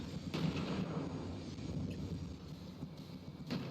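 Railgun fire booms in From the Depths, heavy muffled blasts sounding a few times, including one near the start and another near the end over a low rumbling background, no talk.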